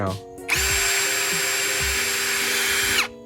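An electric drill whines at high speed for a few seconds, starting abruptly and stopping sharply, loud and close.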